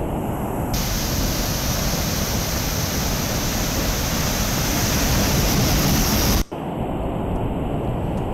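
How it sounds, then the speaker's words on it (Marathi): Heavy water released from Khadakwasla Dam roars into the swollen Mutha river in Pune, a loud, steady broadband rush that runs continuously before a brief break near the end. "पाण्याचा मोठा विसर्ग सुरू आहे, त्यामुळे मुठा नदीत दुथडी भरून वाहते"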